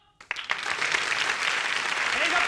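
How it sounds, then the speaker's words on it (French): A theatre audience at a live comedy show bursts into applause after a brief silence, dense sustained clapping that swells quickly and holds loud to the end. "sinon facile, les applaudissements"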